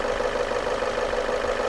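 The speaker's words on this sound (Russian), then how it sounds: "Вот сейчас мне нравится, как работает мотор." Repaired car engine idling close up after fixing a misfire, stalling and rough running, a steady even hum with a faint tapping under it, continuous and fairly loud.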